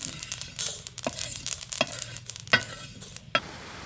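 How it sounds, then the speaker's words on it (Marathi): Green chilies and garlic dry-roasting in a pan, crackling and popping in irregular sharp bursts over a low sizzle, with the scrape of stirring throughout and no speech. "असं चट चट चट वाजायला आलं की काढायचं"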